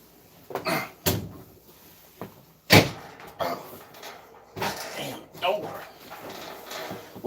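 A stubborn door beside a furnace is forced shut with a string of sharp, close bangs and rattling knocks, spaced irregularly, with a voice speaking briefly between the impacts.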